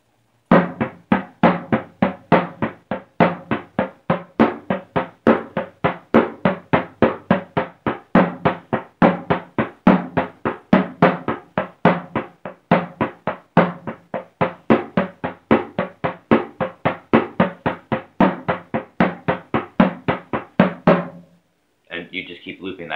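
Bodhran shuffle exercise played as a steady, fast stream of drum strokes, each note accented in turn, looping evenly for about twenty seconds before stopping with a brief trailing sound.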